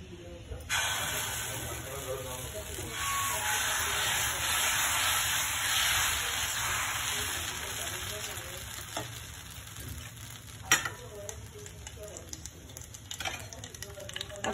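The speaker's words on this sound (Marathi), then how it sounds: "आता गाईज फोडणीमध्ये राई ॲड केली" Mustard seeds sizzle and crackle in hot oil while tempering for a dosa chutney, a steady hiss with scattered pops that fades in the second half, heard fairly close.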